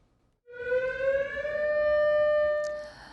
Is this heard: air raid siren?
yes